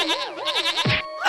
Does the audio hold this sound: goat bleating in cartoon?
yes